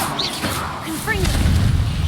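A Confringo blasting spell goes off in Hogwarts Legacy, giving a whooshing burst with rising magical chirps and then a rumbling low blast, heard beneath game effects.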